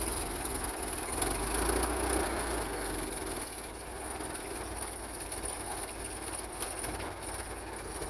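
A 1918 GarFord engine, hand-crank started, idles slowly with a steady low rumble under a constant hiss, unbroken and fairly even throughout with no talking.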